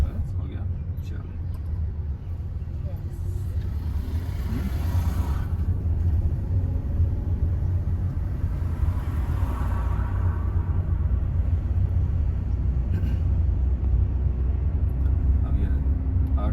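A car engine rumbles steadily at low pitch as a learner driver pulls away in second gear, with an instructor talking over the continuous drone.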